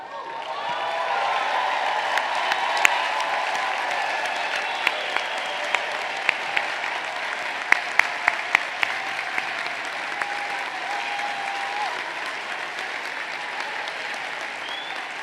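Large outdoor crowd at a college commencement gives a long, sustained round of applause to honor the mothers present, a steady even roar of clapping with occasional sharp individual claps standing out.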